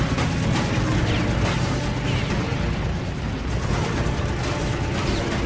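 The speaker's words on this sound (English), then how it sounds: "Tex and the Oscar open fire at the same time. The P-40 shudders as the Oscar's bullets hit home." Dense, continuous rattle of WWII fighter machine guns, a P-40 and a Japanese Oscar firing at once in a dogfight, loud and sustained with rapid overlapping bursts and a roaring backdrop, no talking.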